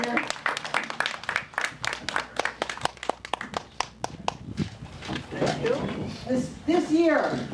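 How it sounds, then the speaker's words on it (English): A small audience claps for several seconds at a church or heritage gathering, dense close handclaps that thin out into scattered claps. A voice speaks over the fading applause near the end. "round of applause for Glendora while we're getting ready up here."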